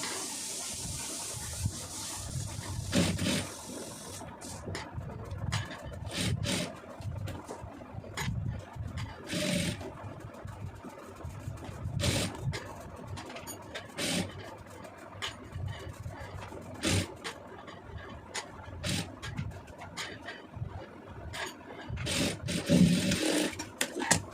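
A sewing machine stitching piping onto a plain blouse runs in short, repeated bursts of rapid mechanical whirring, pausing between runs, with no voices.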